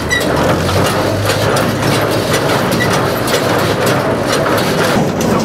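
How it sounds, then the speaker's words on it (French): An old Austrian Steyr tractor engine runs steadily during an old-fashioned harvest, a loud continuous low mechanical drone with rattling and clatter and no voices. "le tracteur"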